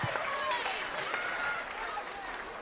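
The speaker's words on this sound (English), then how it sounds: "How about a big round of applause for John DiMartino, piano, Andy Yula, the bass." Audience applause and crowd noise fill a Kennedy Center hall during a Latin jazz performance lecture, a broad steady wash of clapping and cheering that holds throughout, loud and close.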